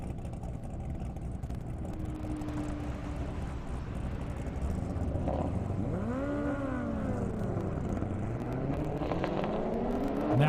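A Corvette and a Kawasaki ZX10 Ninja launch in a half-mile airport drag race, engines heard from a distance as rising, swooping revs over a steady background roar.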